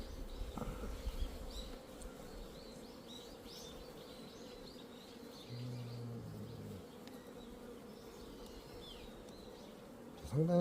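Bees buzz steadily and faintly at a distance outdoors, a thin continuous drone with a brief louder hum partway through and a sharp knock at the end.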